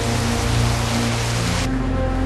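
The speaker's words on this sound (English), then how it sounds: "As night fell, so did the rain." Heavy rain from Hurricane Gustav pouring down in southeast Louisiana at nightfall, a dense steady hiss of downpour on surfaces with a low rumble beneath, loud and continuous throughout, no voices.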